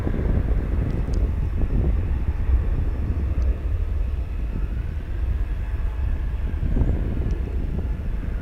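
Airliner flying past at DFW International Airport on a foggy day, a steady broad engine roar and rumble that stays loud and even throughout, with no talking.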